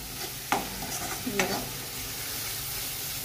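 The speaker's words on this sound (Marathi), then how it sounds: "आणि थोडासा सांबार मसाला हा. ते चांगलं असं तळून घ्यायचं." Sambar masala sizzles in hot oil, with two sharp stirring scrapes standing out over a steady close-up frying hiss.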